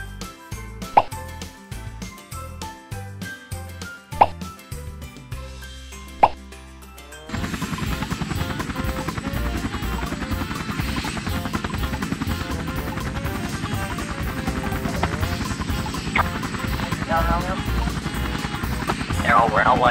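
A toy helicopter whirs loudly and continuously in a sandbox play scene with toy vehicles, its rotor drone steady and close after a few earlier plopping taps, with no talk over it.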